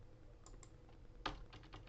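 A few soft keyboard key clicks, sparse and irregular, with one louder tap near the middle, over a low background hum.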